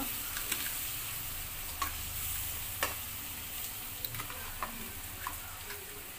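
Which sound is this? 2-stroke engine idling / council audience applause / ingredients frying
ingredients frying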